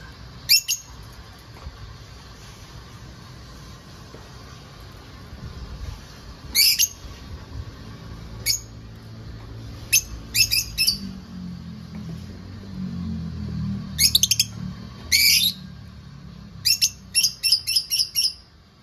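Pet lovebirds give sharp, repeated squawks and chirps in short clustered bursts, loud and close, with quiet gaps between calls and a low rumble of household background underneath.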